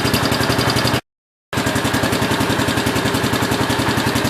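A 1967 430 engine idles loud and close with a steady, even, rapid pulsing, briefly cut to silence partway through before resuming the same idle.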